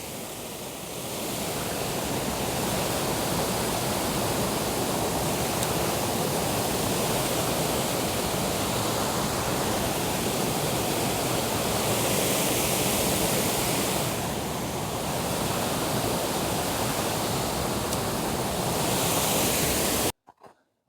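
A waterfall rushes steadily and loudly, a dense, constant roar of falling water that stays nearly unchanged for about twenty seconds before cutting off abruptly.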